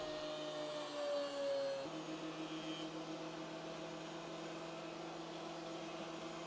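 A planer or jointer runs a walnut board flat. A loud machine roar has a shift in tone partway through, as if the board passes through the cutter, and then settles into an even, steady drone.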